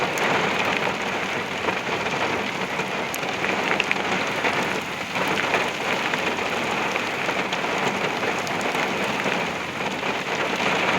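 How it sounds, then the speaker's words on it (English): Very heavy rain from a derecho storm in Oklahoma pours down steadily and loudly, a dense continuous roar of drops on surfaces with no talking. "Yep, here it comes. I mean, the heavy rain and stuff."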